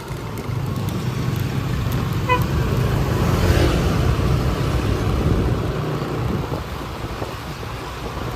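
Car driving along Danau Tamblingan Street in Sanur, Bali, with a steady engine and road rumble heard from inside and passing street traffic around it. A brief horn toot sounds early on.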